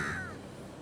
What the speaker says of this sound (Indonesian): Ada gagak.